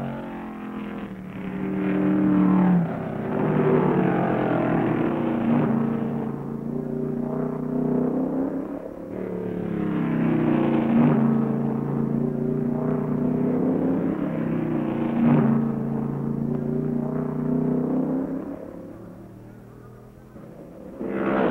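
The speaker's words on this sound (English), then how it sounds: "Petty is driving full bore to maintain his lead in the final stages of the race." Stock cars race at full speed at Riverside in the 1970 Falstaff 400. Engines drone in a continuous, muffled, low-fidelity roar that rises and falls in long, sweeping waves as the cars pass.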